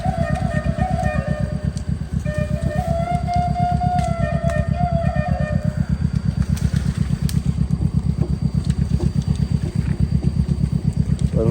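A motorcycle engine idles by a roadside at night in stormy rain, with a steady, dense low rumble throughout, while a wavering siren-like tone rises and falls in the first half.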